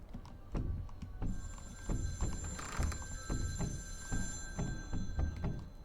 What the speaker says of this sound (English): Okay, where's the phone now?